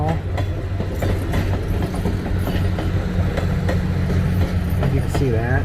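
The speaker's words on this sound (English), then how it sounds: "The train's going through the tunnel." A train rolls through a tunnel near Whittier, Alaska, with loud continuous rumbling, rhythmic clickety-clack of wheels over rail joints and occasional squeals, sustained close and steady throughout.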